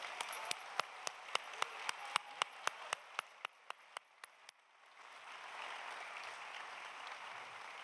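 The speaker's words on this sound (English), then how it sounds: "let's all give one more round of applause to Nick." Sparse, distinct hand claps ring out at a slow steady pace at an annual meeting, then give way to a softer wash of broader audience applause, fairly quiet overall.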